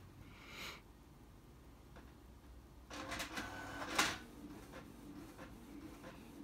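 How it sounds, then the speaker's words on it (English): Home printer running a print job, heard as a faint mechanical whir with soft bursts of feed noise and a louder clunk near the end, alone and fairly close in a quiet room. "Okay, so now my printer is on."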